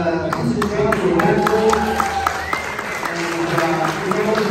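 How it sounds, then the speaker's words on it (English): Audience applause at an Italian street food festival held by a cycling club, a dense, steady wash of clapping with crowd chatter and voices mixed in throughout. "And applause to Bestia, Mr."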